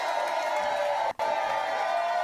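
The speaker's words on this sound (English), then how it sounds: "Let me turn down the fake cheering because this is not organic" Canned crowd cheering and whooping plays as a steady, dense roar throughout, briefly cutting out for an instant near the middle before resuming at full level.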